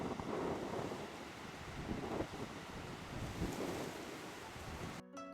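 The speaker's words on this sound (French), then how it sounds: "Et vent, toujours le vent." Strong wind on Enoshima island, Kamakura, Japan, at sunset, buffeting the microphone with a continuous roaring rumble, gusting louder at moments, then cutting off abruptly at the end.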